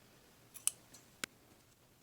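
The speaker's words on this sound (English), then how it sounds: "we're just going to cut and tie off our yarn." Scissors snipping yarn after crocheting a two-tone ribbed beanie, two or three short sharp clicks, close and quiet in an otherwise still room.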